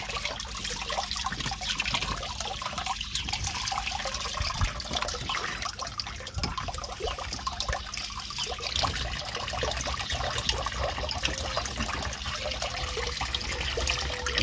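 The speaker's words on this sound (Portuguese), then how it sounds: "O trabalho das bombas é mesmo filtrar a água." Water pumps filter water with a continuous trickling and splashing flow, steady and fairly close, under a constant broadband hiss.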